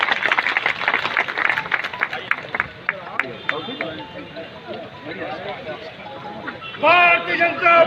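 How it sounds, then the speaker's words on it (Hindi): Crowd clapping at an election nomination rally welcomes MP Ajay Mishra Teni, brisk separate claps at first that give way to loud talk and shouted slogans. "करतल ध्वनि से उनका ताली बजाकर उनका स्वागत करें"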